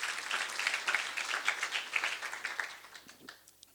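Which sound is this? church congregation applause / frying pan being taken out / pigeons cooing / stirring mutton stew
church congregation applause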